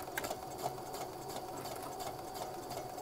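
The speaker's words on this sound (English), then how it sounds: "sure that I am sewing close to the edge" A sewing machine runs steadily, stitching a side seam close to the fabric edge on a McCall's 8241 garment, with a continuous whirring hum and no talking.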